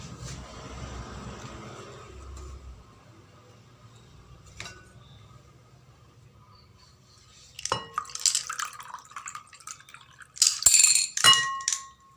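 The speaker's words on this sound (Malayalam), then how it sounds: "എന്നിട്ട് ഈ എക്ഷലിൻ്റെ വാട്ടർ ഒഴിച്ച് കൊടുക്കാം" Water mixed with Excel liquid plant treatment is poured into an aquatic plant container, starting as a faint trickle then turning into louder splashes and glassy clinks in the final seconds, close up and without talking.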